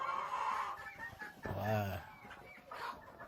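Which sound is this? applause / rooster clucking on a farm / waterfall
rooster clucking on a farm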